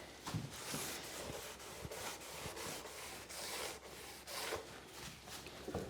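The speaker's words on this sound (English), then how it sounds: "this example is actually stripping paint out of the grain" Paint is scrubbed out of wood grain on restored castle timber, a close, raspy rubbing in repeated uneven strokes, each a short burst of scratchy friction with brief pauses between, steady and fairly quiet throughout.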